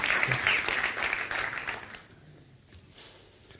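Audience clapping at a talk on omega-3 balance, a dense burst that dies away after about two seconds into quieter room noise.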